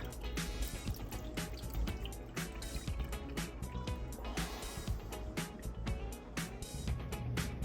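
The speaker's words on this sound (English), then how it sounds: "start pouring it down the drain so I can show them what that's gonna look like" Milk that has been used to soak deer backstrap is poured down a kitchen drain, producing a steady close-up splashing trickle with gurgles and drips throughout and no talking.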